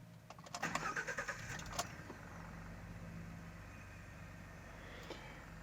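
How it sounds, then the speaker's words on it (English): A 2016 Ford Expedition engine cranking with a quick rhythmic series of starter pulses, catching after about a second, then settling into a steady low idle, close and moderately loud with no talk. "So what we'll do is we'll start the vehicle."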